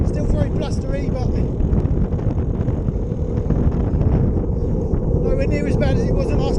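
Blustery wind buffets a microphone outdoors, a loud, constant roar that fills the whole stretch without letting up.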